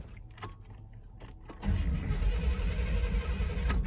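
A truck that won't start, suspected faulty fuel pump: keys jingle and click in the ignition, then a loud steady cranking drone sets in and runs to the end, close up with no talking.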